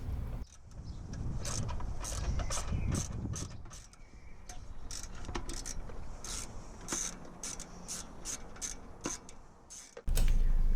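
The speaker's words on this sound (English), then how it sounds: "Start by removing the 3 long 10mm mounting bolts that you can find." Ratcheting and clicking of a wrench loosening long 10mm mounting bolts during a Honda S2000 air conditioning removal, a steady series of close mechanical clicks and rubbing scrapes with no talking.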